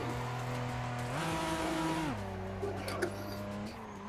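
A car on a practice lap in a drift battle holds a droning engine note that steps up and down with gear and throttle changes, steady and fairly close throughout.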